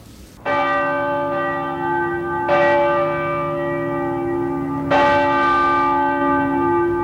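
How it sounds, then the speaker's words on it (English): Deep bells of Denver's Roman Catholic cathedral toll slowly, three strikes a couple of seconds apart, each ringing on with a long resonant hum. "The bells at Denver's Roman Catholic Cathedral struck 15 times"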